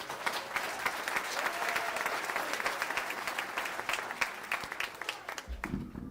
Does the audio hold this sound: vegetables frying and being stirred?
no